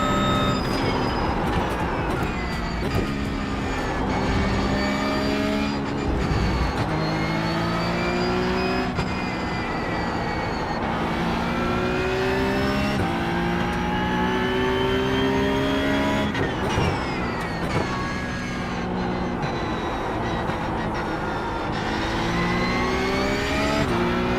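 A Porsche 992.2 sports car engine drones and revs continuously while driving, pitch climbing through gears and dropping at shifts, loud and close for the whole stretch with no talk.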